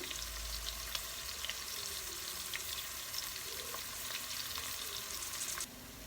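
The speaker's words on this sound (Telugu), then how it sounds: "ఆనియన్స్ గోల్డెన్ బ్రౌన్ కలర్ వచ్చేంత వరకు మనం వేయించుకోవాలి" Onions fry toward golden brown in a pan for prawn biryani, a faint, steady sizzle with occasional light stirring clicks, heard quietly and without talk.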